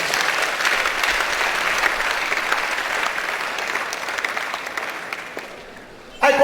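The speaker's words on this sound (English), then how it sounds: "Give yourself a round of applause." Students at a university orientation programme for fresh students applaud, a dense steady clapping that fades slightly toward the end.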